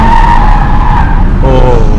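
A car drifting on a road, with a loud, close, sustained tire squeal over engine noise for about two seconds.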